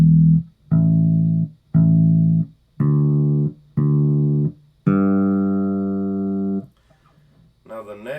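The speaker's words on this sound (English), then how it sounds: "so you can hear that interval between each string." Open strings of a bass guitar tuned in fourths, plucked one after another in a quick even run of five notes, then a final note left ringing for nearly two seconds, close and unaccompanied.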